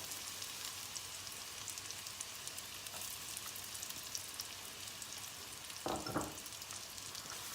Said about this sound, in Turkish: Soğanı iyice bir kavuracağız.